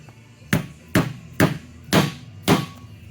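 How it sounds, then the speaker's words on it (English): Five firm, evenly spaced taps ring out close and loud as a seal driver knocks a seal into place during a Honda Tecate 4 rebuild, each a solid metallic knock. "Then we're simply going to put a seal driver on there."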